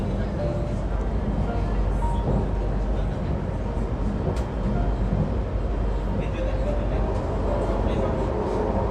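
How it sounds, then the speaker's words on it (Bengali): Inside a moving train in Kuala Lumpur, a dense, steady low rumble and rolling rattle fill the space continuously, loud and close, with no clear talk over it. "এটা হলো ট্রেনের ভিতরে।"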